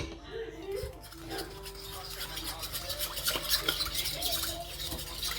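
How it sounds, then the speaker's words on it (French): A spoon or whisk scrapes steadily round a bowl, mixing eggless cake batter just after sugar goes in; a close, continuous stirring that swells a little toward the end, with a faint voice underneath. "Et on mélange bien."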